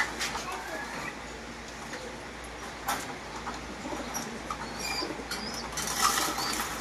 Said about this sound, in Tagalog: Ganito ako magpakain ng kalapati.